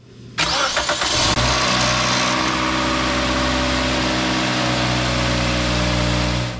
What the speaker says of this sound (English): Now just turn on the engine and make sure everything runs smoothly.